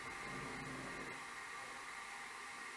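A SITEK 4300-S spin rinse dryer in its dry step, spinning at about 500 RPM, gives a steady, even whirring rush with a faint low hum beneath. It runs continuously with no voices.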